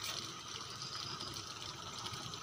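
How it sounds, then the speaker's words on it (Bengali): Water sprinkling onto cooked rice at night, a steady, dense rushing spray that stays even and continuous throughout with no voices. "এই যে দেখো জলটা ছিটিয়ে পড়ছে চালে"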